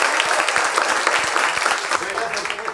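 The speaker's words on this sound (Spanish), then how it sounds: "Un fuerte aplauso, por favor, para Rafa Martínez." Audience applause for a guest psychologist on a Spanish-language comedy show, a dense, steady burst of many hands clapping close and loud, holding throughout and slightly easing at the end.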